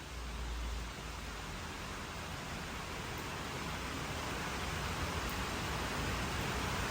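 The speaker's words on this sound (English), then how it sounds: "But it is raining like crazy." Heavy rain pours down in a dense, steady hiss that stays even and loud from start to finish, with no voices.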